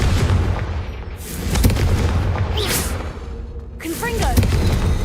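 Confringo fire-spell explosions in the wizarding video game Hogwarts Legacy, with heavy booming blasts and rumbling bursts layered under in-game voices and battle sounds.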